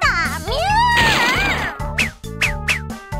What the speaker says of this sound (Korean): 이번에는 어디선가 고양이가 나타났어요